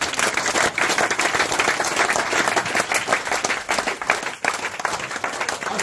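A church congregation at a revival mission in Côte d'Ivoire applauds loudly and steadily, dense clapping filling the space without pause and a few voices faintly mixed in.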